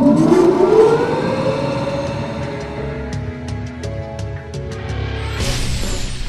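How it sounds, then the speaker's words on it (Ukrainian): A loud bunker air-raid siren winds up and wails with a rising, sustained tone, echoing in an enclosed space, then settles into a droning howl. "Ще більше вражає тривожна сирена."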